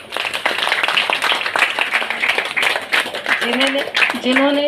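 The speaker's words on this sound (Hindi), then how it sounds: "ज़ोरदार तालियां चाहूँगी" A room of people applauds at a business leadership talk, a dense patter of clapping running throughout, with talking and voices over it.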